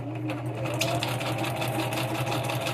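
A sewing machine stitching through book signatures for crafts runs steadily at close range, its rapid mechanical stitching hum continuous and even throughout.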